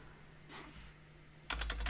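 Fast burst of computer keyboard typing starts abruptly near the end after quiet room tone, close and fairly loud, with no talking.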